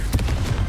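A Confringo blasting spell is cast in Hogwarts Legacy: a short, loud fiery crackle with rapid pops, heard up close.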